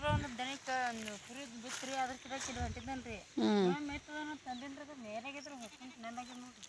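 Sheep bleat repeatedly, several wavering cries close by, one louder and higher in the middle, with livestock noises in the background.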